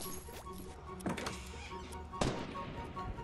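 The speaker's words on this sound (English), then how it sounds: "I hear a gunshot" Gunfire in the Fortnite video game: two sharp, distant shots about a second apart cut through faint, steady game ambience.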